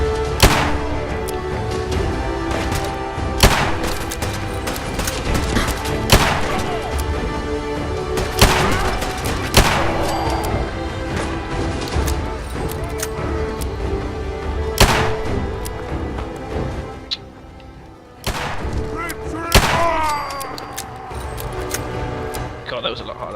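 Grenade explosions and gunfire in a video game: repeated sharp blasts and shots every few seconds over a steady rumbling game soundtrack, with someone talking over the action.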